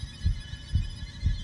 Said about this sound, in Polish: Słyszę bicie serca.